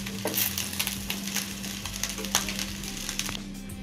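Egg fried rice stirred and fried in a pan, with steady close sizzling and repeated scraping and clinking of the spatula against the pan, no voices.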